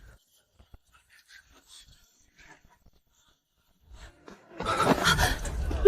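A small dog from a butcher's shop at the end of a street gives short, close whimpering and panting sounds, starting faintly and growing louder and more continuous near the end.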